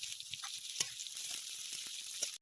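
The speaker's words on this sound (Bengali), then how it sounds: "চেরা কাঁচা লঙ্কা," Slit green chilies sizzle in hot white oil in a kadai, a bright steady hiss with scattered pops and spatula clicks, fairly faint.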